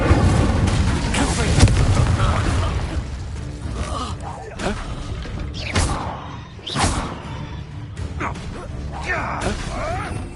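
Incendio fire spells are cast during combat in Hogwarts Legacy: several loud whooshing bursts over dense, noisy battle sounds, with voices speaking at times.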